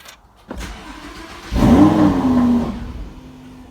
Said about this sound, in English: The vehicle starts and cut out because we didn't put a pin.